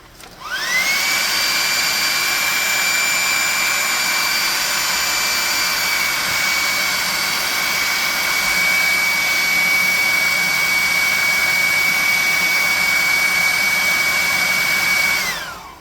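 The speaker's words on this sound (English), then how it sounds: "We're going to hit that with the hairdryer." A hairdryer blows on freshly painted red and pink paint on a handmade worm figure for a tabletop RPG. Its loud, steady whining rush starts up, holds evenly for about fifteen seconds and then cuts off.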